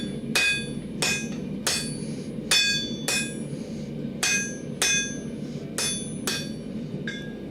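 A hammer strikes steel on a wobbly anvil while S-hooks are forged, giving about eleven loud, ringing blows at a steady rhythm over a continuous low background hum.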